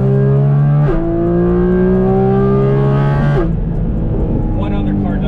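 A Porsche GT4 RS with carbon intakes pulls hard under full throttle, its loud engine note climbing steadily through two quick gear changes, with an intense induction wail close by.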